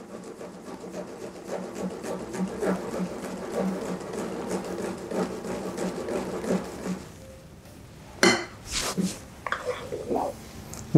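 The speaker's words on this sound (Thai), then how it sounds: "เราใช้ตะกร้อมือคนให้ไข่ขาวเข้ากันนะครับ" Hand whisk stirring egg whites into batter in a bowl, a rapid rhythmic ticking scrape repeated steadily for several seconds, then a pause and a few louder knocks, with a voice speaking at times.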